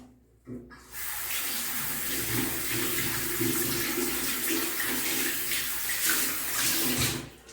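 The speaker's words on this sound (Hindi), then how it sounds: "अब मैं अपन हाथ ला धो लेता हूँ।" A tap opens and water runs steadily as hands are washed underneath, a close, continuous splashing gush that lasts until the end.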